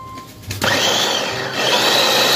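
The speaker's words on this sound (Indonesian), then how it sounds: "Kemudian langsung kita tutup, langsung kita blender ataupun bisa juga ditumbuk ya hingga lembut" A kitchen blender whirs up loudly and steadily, grinding a homemade eco-friendly pesticide mix with 500 ml of water until smooth, the motor spinning up after a brief quieter start and holding a dense roar.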